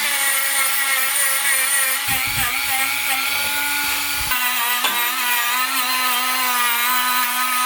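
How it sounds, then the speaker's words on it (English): A wire wheel grinds steadily against motorcycle exhaust headers on a ZX14, a loud, continuous high-pitched whine with a brief dip in tone partway through, no voices. "I'm going to give the headers a once over with the wire wheel"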